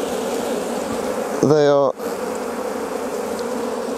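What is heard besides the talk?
honey bees buzzing at a hive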